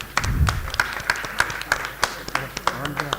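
Scattered hands clap at a regional workshop on biomass co-firing for thermal power, a sparse, uneven patter of individual claps from a small audience that continues steadily for a few seconds.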